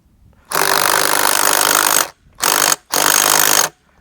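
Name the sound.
impact gun tightening 34 mm socket on outboard motor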